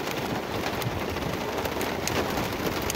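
Rain falling on rain-soaked wheat fields: a dense, steady hiss of a downpour with scattered sharper drops, fairly loud and continuous, with no voices.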